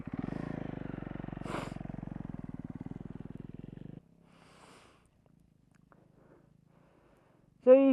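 A DRZ400 dirt bike idles and rolls slowly down a hill, a steady low engine putter for about four seconds that then drops away to near silence before a brief loud burst at the end.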